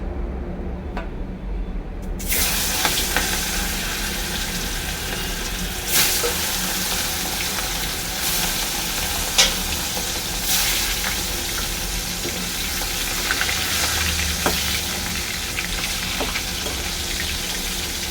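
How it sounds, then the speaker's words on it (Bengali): Pieces of katla fish frying one by one in hot oil in a pan, a steady close sizzle running throughout with occasional sharper spits and crackles. "এবার এক এক করে আমি মাছগুলো ভেজে নিচ্ছি"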